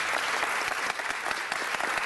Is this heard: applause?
yes